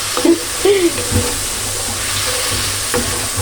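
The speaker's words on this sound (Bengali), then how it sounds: "আমি মশলাটাকে মশলাটা তো কষাতে থাকবো" Masala spice paste frying in a pan makes a steady hiss with occasional stirring scrapes, while a voice speaks briefly near the start.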